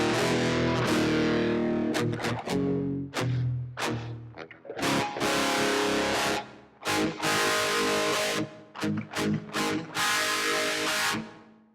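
An electric guitar played through the distortion effect of a Valeton GP-100 multi-effects unit with the gain turned down slightly, giving loud, gritty chords and short choppy stabs separated by brief gaps.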